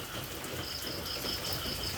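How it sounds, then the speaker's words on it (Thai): Steady rain falls on a rural Thai home on a wet Saturday, a dense continuous hiss of drops on surfaces with no talking. "ฟังเพลงฝนแล้วกัน"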